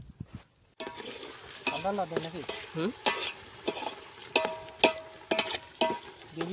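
Papad frying in hot oil at an outdoor village picnic cookout in Karnataka, a close crackling sizzle broken by repeated stirring clatters, while people talk briefly nearby.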